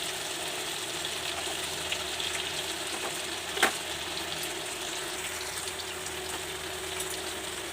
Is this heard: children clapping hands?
no